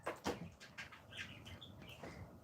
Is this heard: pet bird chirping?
yes